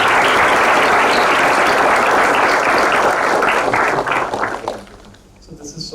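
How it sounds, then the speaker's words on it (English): Sustained audience applause at an engineering conference session, dense steady clapping from a large crowd that thins and fades out near the end, leaving a quieter room. "A big round of applause for them."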